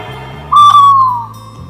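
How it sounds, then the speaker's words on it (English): A single owl call, a clear whistled hoot that starts loud and slowly glides down in pitch over about a second, over a soft low musical backing. "O for owl."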